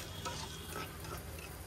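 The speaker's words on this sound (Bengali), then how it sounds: "পেঁয়াজটা হচ্ছে" Onion frying in a pan: a soft, steady sizzle with faint crackles, fairly quiet and unbroken, with no voices.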